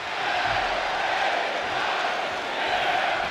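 Crowd noise in the WWE 2K26 wrestling video game, a loud, steady roar of cheering spectators that swells slightly and holds throughout without a break.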